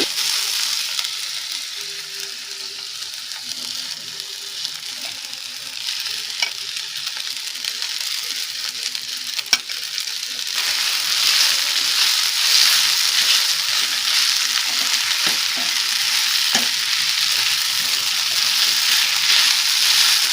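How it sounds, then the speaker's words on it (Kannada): Diced potatoes frying in a pan as sabudana is tipped in, a steady close sizzle with stirring scrapes that grows louder and brighter partway through; no talking. "ಈಗ ಪೊಟ್ಯಾಟೊ ಚೆನ್ನಾಗಿ ಫ್ರೈ ಆಗಿದೆ ಈಗ ಸಾಬುದಾನಿನ ಹಾಕೊಳ್ತಾ ಇದ್ದೀನಿ"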